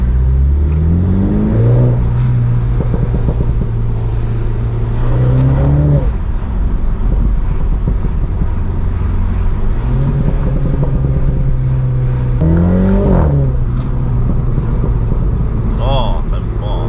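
A modified MINI JCW F56 accelerates hard through the gears with the windows down, its engine revving and dropping at each shift while the exhaust pops and crackles loudly; voices speak over it.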